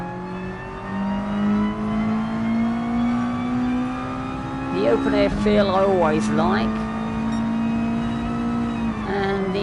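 A Mazda MX-5-based car engine in Gran Turismo Sport drones steadily, its pitch climbing gradually as it accelerates, then dipping briefly at a shift, with someone talking over it for a few seconds.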